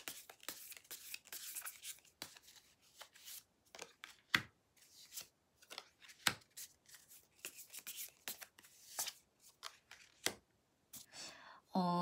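Tarot cards are shuffled and drawn by hand, giving a dense run of crisp papery slaps and riffles with brief pauses, close and fairly quiet, ending with a short tonal sound.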